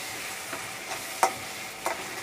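Ginger garlic paste sautés with onions in oil for pav bhaji, a soft steady sizzle broken by a few sharp scrapes and taps of a spatula stirring the pan.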